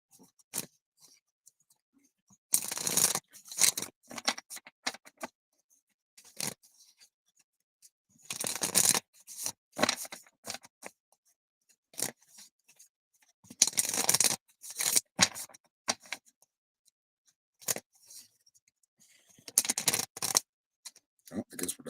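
Tarot cards being shuffled, with bursts of papery riffling and snapping separated by quiet pauses, close and fairly soft, repeating irregularly over a long stretch.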